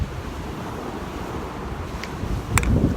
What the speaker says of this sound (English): The wind is so cold.